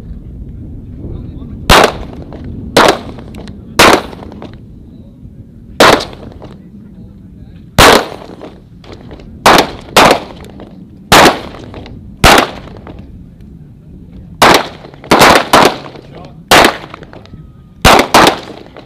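Gunfire at a joint weapons training range: a series of sharp, loud, close shots, single and in quick pairs, spaced irregularly over a quiet outdoor background.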